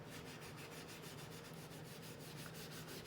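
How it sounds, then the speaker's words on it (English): A paper towel rubs pencil shading on sketchbook paper in quick, even back-and-forth strokes, a soft close scratchy swish repeating rhythmically. "The paper towel rubs it nicely."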